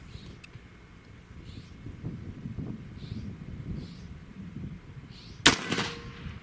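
A ZEUS .72 caliber air rifle fires once at a gopher outdoors, a sharp, loud crack followed by a short echoing tail over light wind and soft background movement.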